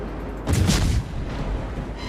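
Naval guns fire shells in the World of Warships video game, giving a deep, rumbling boom over continuous low game noise, followed by a duller second swell.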